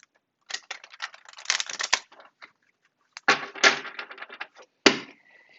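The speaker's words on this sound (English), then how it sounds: "I have already pre-shuffled them, but I will shuffle them again." Tarot cards are shuffled by hand close by, giving dry papery riffles and flutters in short irregular bursts separated by brief pauses, with no talking.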